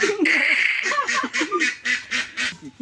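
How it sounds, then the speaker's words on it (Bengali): A duck just caught from a village pond quacks repeatedly and loudly at close range, in a rapid string of short, nasal calls. "এই হাঁস দাবড়ায় ধরলাম"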